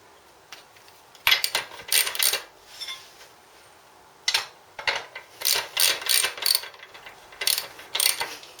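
Ratchet tightening a bolt on a Scottoiler V-System mount on a motorbike, several bursts of rapid clicking strokes separated by short pauses, loud and close.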